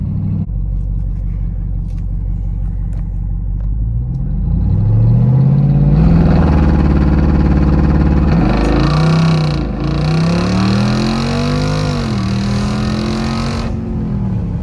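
A Jeep Wrangler 392 V8 with a custom tune idles with a deep rumble, then revs hard through several rising, falling pulls during a launch, loud and close.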